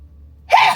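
A single sharp sneeze bursts out after a moment of near silence, close and fairly loud.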